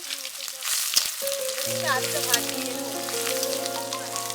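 Garlic and bay leaf sizzle steadily in hot oil for a Bengali aloo dum, a close, continuous frying hiss with a few sharper crackles.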